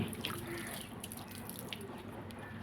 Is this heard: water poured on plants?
yes